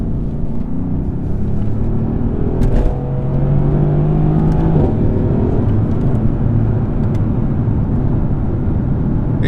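A 2017 Mercedes C63S in Sports Plus mode accelerates, its engine note climbing steadily and staying loud throughout, with a rising harmonic sweep midway and no talking.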